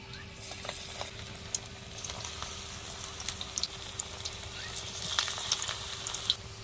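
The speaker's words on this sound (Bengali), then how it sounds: "এই যে দেখুন তেলটাও গরম হয়ে গেছে এবার আমি চপের আকারে ভেজে নেবো" Coriander leaf fritters fry in hot oil in a wok, a soft continuous sizzle dotted with small pops and crackles, moderately close, with a faint steady hum underneath and no talking.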